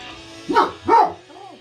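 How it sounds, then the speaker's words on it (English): A dog gives two sharp barks close by, followed by a softer whine or yip trailing off at the end. "Oh, and there's the dog."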